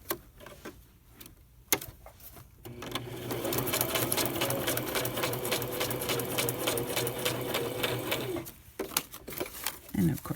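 A domestic sewing machine runs in a steady, close whirring burst as it stitches along folded fabric, framed by brief taps and handling noises before and after, with a voice speaking briefly around it.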